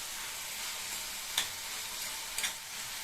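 Chopped tomatoes and onion sautéing with salt in a pan for baby potato kara kuzhambu, a faint, even sizzle throughout with two light ticks of a spoon against the pan.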